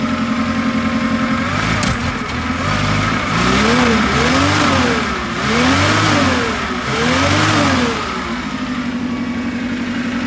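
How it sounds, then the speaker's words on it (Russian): A Japanese 1.5-ton forklift's four-cylinder carburetted petrol engine idles, then revs up and down repeatedly in rising and falling sweeps before settling back to a steady idle; loud and close. "Двигатель четырехцилиндровый, как и обычно, карбюраторный"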